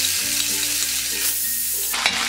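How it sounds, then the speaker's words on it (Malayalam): Green chilli and ginger garlic paste sauté in a pan for a crab curry, a loud, steady close sizzle with a stir or clatter near the end. "ജിഞ്ചർ ഗാർലിക് പേസ്റ്റ് ചേർത്ത് ഇതൊന്ന് വഴറ്റി കൊടുക്കാം"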